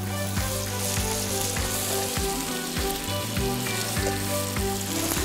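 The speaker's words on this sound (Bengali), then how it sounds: "তো আপনি এটা আলাদা করে ফ্রাই করছেন" Meat frying on its own in a hot pan, a loud, steady sizzle lasting throughout with a few bumps and scrapes from the pan, close up and without talking.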